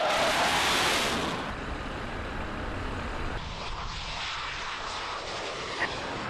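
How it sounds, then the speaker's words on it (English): A Tornado GR4 jet attack aircraft roars loudly during takeoff. The engine noise is broad and sustained, peaks in the first second, then settles into a steady rushing drone as the jet flies on. "Alex Wurz was invited to fly a Tornado attack aircraft with Squadron leader Graham Bagnall from RAF"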